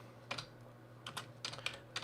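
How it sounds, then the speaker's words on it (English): Keys tapped on a computer keyboard, close and fairly quiet: a few scattered clusters of quick clicks with short pauses between, over a low steady hum, with no talking. "I started typing on the other screen"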